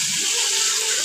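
Chopped raw mango pieces hit hot oil, giving a steady, close hissing sizzle through the whole brief moment.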